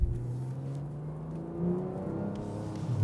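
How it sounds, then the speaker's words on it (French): A car engine revs outside a château, producing a low steady drone whose pitch slowly climbs, then swells again near the end with a short surge. "Oh, le moteur, là."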